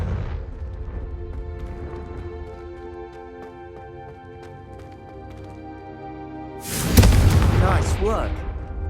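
A Confringo fire spell in Hogwarts Legacy bursts into a sudden loud explosive whoosh with a deep boom near the end, following a stretch of sustained music and background tones.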